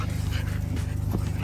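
A dog pants close by in a quick, steady rhythm of rapid breaths, continuous throughout and with no other sounds over it.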